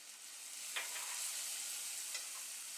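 Turmeric and ginger garlic paste sautéing in a pan for spinach pulao, a steady soft sizzle with a couple of brief scraping stirs, close and alone without talk.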